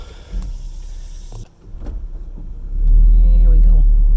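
A vehicle backs up on cleared land, its engine rumbling low and then swelling into a louder, steady drone near the end, with a brief voice early on.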